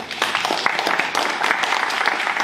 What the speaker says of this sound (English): let's give Jim a round of applause here